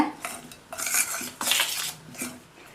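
A spoon scrapes and clinks around a bowl in bursts, mixing thick kozhukattai dough, with repeated close, bright metallic knocks and no talking.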